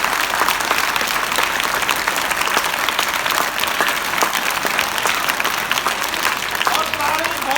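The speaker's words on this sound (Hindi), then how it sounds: "ताली बजती है।" A school comedy show audience breaks into dense, sustained applause, many hands clapping loudly and evenly, with faint voices mixed into the crowd noise.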